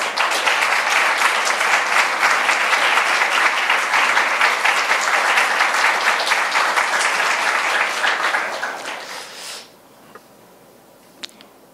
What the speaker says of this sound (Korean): 앞으로 나오실 때 우리 큰 박수로 환영해 주시면 감사하겠습니다.